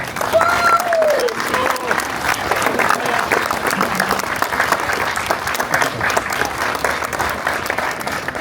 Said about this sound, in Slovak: zaslúži si naozaj teraz jeden obrovský potlesk